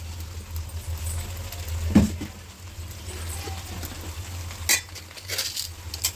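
A ladle stirs chili powder through pieces of goat head curry in a pot, giving scraping clinks and a sharp knock near the start, with a soft sizzle and a steady low hum underneath.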